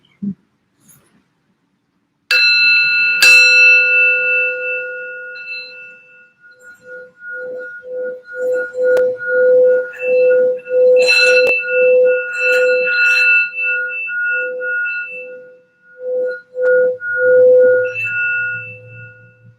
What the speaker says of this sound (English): I wanted to just do this sound bell for a little bit of clearing and some healing for everybody